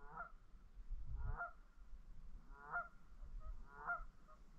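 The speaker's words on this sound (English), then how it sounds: "And we've got a pair of geese as well." Geese honk in a series of distinct calls, four or five loud, nasal honks spaced about a second apart, heard outdoors at Loch Enoch in the Scottish wilderness with faint wind rumble beneath.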